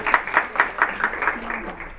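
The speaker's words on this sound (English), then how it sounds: "So that deserves a round of applause." Meeting participants at a rulemaking session give slow, rhythmic clapping, roughly eight or nine spaced claps that soften toward the end, close and moderately loud.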